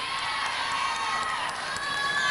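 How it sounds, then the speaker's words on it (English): College gymnastics teammates cheering on a gymnast during her uneven bars routine at an NCAA meet, a sustained crowd of high-pitched shouts and whoops filling the arena throughout. "Teammates cheering her on because she hit that straddle back right to handstand"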